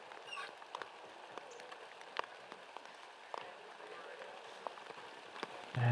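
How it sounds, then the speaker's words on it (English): Rain falls on a disc golf course, a steady faint patter with scattered drops tapping on nearby surfaces outdoors and a heavier rustle at the very end. "you can see that the rain has begun"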